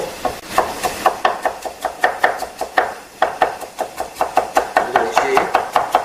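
Knife chopping boiled cabbage leaves on a cutting board in a kitchen: a steady run of close, crisp blade strikes, roughly two to three per second, with a brief pause near the middle and no talk.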